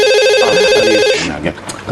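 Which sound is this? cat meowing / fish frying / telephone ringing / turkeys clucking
telephone ringing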